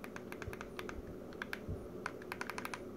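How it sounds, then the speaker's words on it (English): Buttons on a Raspberry Pi Zero handheld game console click loudly and sharply in irregular quick bursts, close up, with no talking. "The buttons are sort of loud and clicky"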